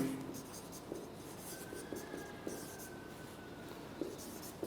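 A chemistry teacher writes on a board, giving soft scratchy strokes and light taps under faint room noise, with some talking heard.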